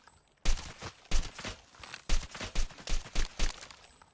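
Gunfire in a first-person shooter video game: a run of sharp, loud shots in an uneven rhythm, roughly a dozen reports spaced close together, with no talking over them.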